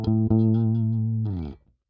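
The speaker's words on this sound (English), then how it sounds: "This is just the dry bass signal." A dry, unprocessed bass guitar plays a sustained low note with a slight pitch bend, then a brief scrape before it cuts off, close and clean with no voices.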